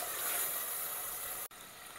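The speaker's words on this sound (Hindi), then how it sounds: "टमाटर को सॉफ्ट होने तक भूनना है" Tomatoes fry in a pan until soft, a steady close sizzle and hiss with a brief dropout near the end, no talking.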